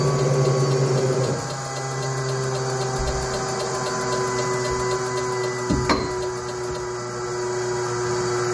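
Fuel pump priming on a Citroen Saxo VTS Turbo, a steady electric hum and whine with a faint mechanical tick near the middle, heard alone at close range.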